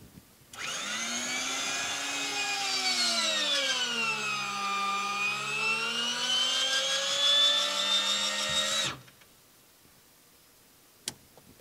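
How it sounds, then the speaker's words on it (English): An electric motor whines loudly for about eight seconds as the landing gear of a Bonanza aircraft retracts, its pitch dipping and then rising before it cuts off abruptly, followed by quiet and one sharp click. "and here we go, gear coming up."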